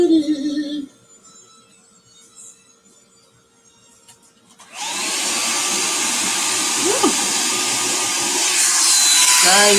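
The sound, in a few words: drying a handmade Christmas card with a dryer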